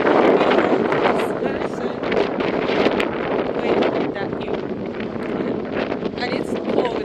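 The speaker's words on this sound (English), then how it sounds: "can you see the way the wind is blowing me away?" Strong, cold wind on Tinto Hill buffets the microphone continuously, a loud rushing roar with gusty flutter throughout and no clear voice on top.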